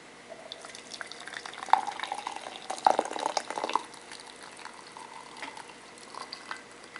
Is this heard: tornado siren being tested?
no